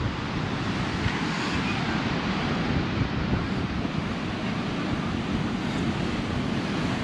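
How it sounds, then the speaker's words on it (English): Waves and wind on the beach at South Padre Island, Texas: a loud, continuous roar of surf mixed with heavy wind buffeting the microphone, steady throughout with no talking. "I'm on the beach"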